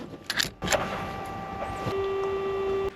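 A Mazda Miata's fuel pump keeps running with the car shut off, a steady low electric whine that settles in after a few clicks and a brief jangle, humming evenly to the end.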